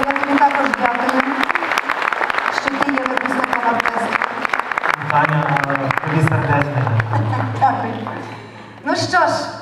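Applause rises for graduates of an orchestra at an anniversary concert, a steady dense clatter of many hands filling a hall, with a sustained musical tone entering midway and a brief voice near the end.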